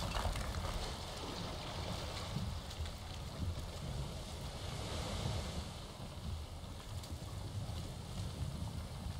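Sea waves and wind while sailing a Viking boat in the video game Valheim, a continuous broad rushing wash of surf with gusty wind noise, steady and fairly loud with no talking.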